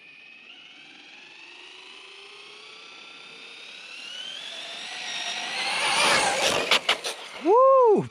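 A Traxxas Maxx or Rustler 4x4 VXL RC car on a speed run, its electric motor whine rising steadily in pitch and loudness as it accelerates, then passing close with a sharp swooping whir and a few clattering bumps.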